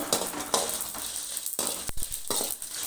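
Coriander seeds dry-roasting in a pan for a mutton kuzhambu spice mix, a steady close sizzle and crackle with brief breaks, likely from stirring or tossing the seeds.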